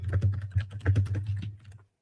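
Keys clatter on a computer keyboard in a short burst of close, irregular taps lasting under two seconds, with a steady low hum running beneath them and no talking.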